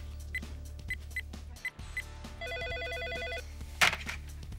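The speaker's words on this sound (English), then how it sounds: "I'll dial the lobby downstairs." Telephone rings out in a TV comedy sketch after a call is placed to a building's downstairs lobby, with several short electronic ring bursts over a low hum, then a longer warbling ring tone close and clear.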